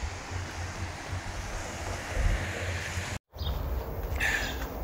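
Surf at Onera Beach, Auckland rolls in as a steady wash of breaking waves mixed with wind rumble on the microphone, with a brief dropout partway through and no voices.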